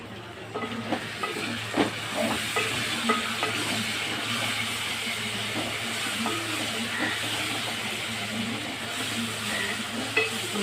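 Three green chillies sautéing in a pan for a fish curry, a steady, even sizzle and hiss with faint scraping stir sounds, continuous and fairly close throughout.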